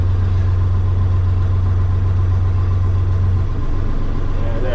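A big machine's heavy diesel engine idles low and steady while it is unloaded and rolls slowly downhill off an HGV, a constant close rumble with the revs barely changing.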